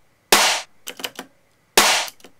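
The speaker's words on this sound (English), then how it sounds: "Yeah, Xlnt Wasabi snare." Xlnt Wasabi snare drum sample striking sharply and alone, a crisp noisy hit followed by a few quieter ghost hits, then another loud crack near the end.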